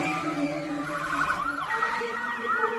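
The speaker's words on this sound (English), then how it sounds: "The ambulance rushed her to the hospital" An ambulance siren wails nearby, its pitch rising and falling in sweeping tones, loud and alone.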